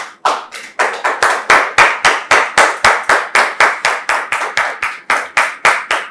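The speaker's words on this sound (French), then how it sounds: "Nous recevons le pasteur sous vos applaudissements avec la permission du pasteur Tchoumou" Church congregation welcoming a pastor with loud, close hand-clapping in a steady unison rhythm of about three claps per second, each clap crisp and distinct, with no one speaking.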